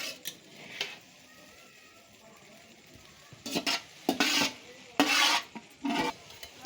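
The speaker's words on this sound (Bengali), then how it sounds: "ডিম সবজি সব ভালো করে মিক্সড করা হচ্ছে" Fried eggs and vegetables are tossed into a large tub of chowmein, giving irregular bursts of scraping and rustling strokes, separated by quiet pauses and growing busier toward the end.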